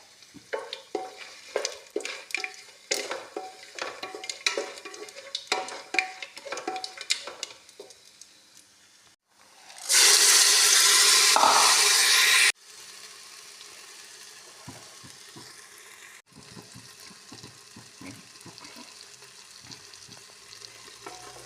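Dry fruits roasting lightly in desi ghee for sweet rice, with a spoon stirring and scraping in the pan, then a loud hissing sizzle for a few seconds before gentler frying and stirring resume.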